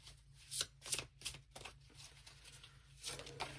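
A deck of cards is shuffled close by during a card reading, with several quick riffling bursts that come in a loose rhythm, quiet and alone.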